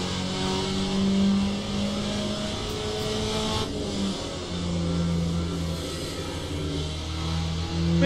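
A race car engine in Le Mans Ultimate drones loud and steady from the cockpit, its pitch holding through sustained revs with small shifts and dips, with no talk over it.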